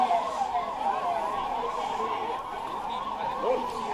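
Wailing ambulance siren at a medical emergency mock drill at Civil Hospital in Lucknow, cycling up and down steadily over several seconds, fairly loud amid faint background murmur.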